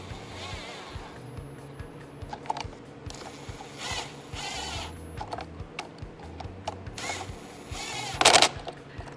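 Screws for the tow mirror light housing on a 2019-2025 Silverado or Sierra driven back in by hand, a close run of small clicking, ratcheting turns with a brief louder rattle near the end.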